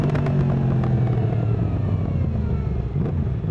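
A Yamaha MT-10 SP motorcycle engine on the road, a loud continuous rumble with rising and falling revs as the bike pulls along, close to the rider, with wind noise mixed in and no talking.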